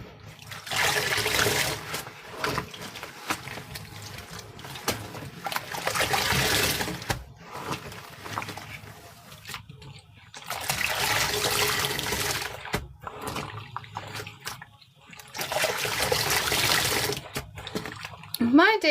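Water runs in bursts during a rinse, rushing and splashing for a few seconds at a time with quieter gaps between, and a voice talks at moments.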